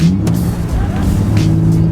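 Nissan 350Z sliding through a drift, engine droning steadily with tire squeal riding over it, loud and close throughout.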